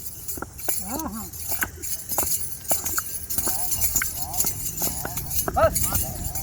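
A dancing horse at a horse dance performance in Chakwal clip-clops its hooves in an uneven rhythm, close and clear. Lively crowd chatter runs underneath, with occasional metallic clinks.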